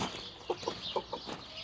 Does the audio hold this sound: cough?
no